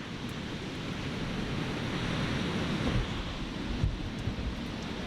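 Waves washing onto a beach as the tide rises, a steady broadband rush of surf with some wind buffeting the microphone, continuous and moderately loud.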